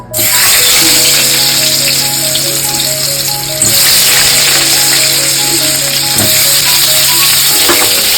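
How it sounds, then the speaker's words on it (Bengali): Pre-boiled potatoes go into hot mustard oil with a loud, dense, continuous sizzle that crackles near and steady throughout, over a faint tonal hum in the background, with no talking. "ভালোভাবে তেল গরম হয়ে গেছে, তারপরে দিয়ে দিচ্ছি আগে থেকে সেদ্ধ করে রাখা আলু।"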